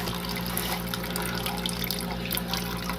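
Coolant drains from the radiator drain plug, fitted with a nylon nut, on a 2005 Mercury Sable with a Duratec V6, a steady close trickling and splashing of liquid running on without a break.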